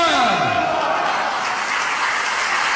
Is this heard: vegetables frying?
no